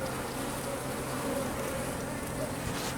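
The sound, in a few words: honeybees in a hive during frame inspection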